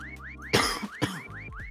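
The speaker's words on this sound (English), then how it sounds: "Alright, now you have to determine if the whistle is on your left or right." Repeated rising whistle tones in the video game REPO, about six evenly spaced chirps over under two seconds, interrupted midway by two loud broadband bursts; no talk.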